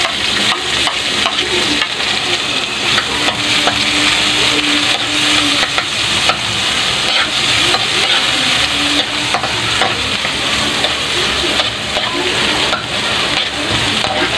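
Onions frying in a pan, giving a loud, continuous close-up sizzle with a constant hiss and occasional stirring, with no voices over it.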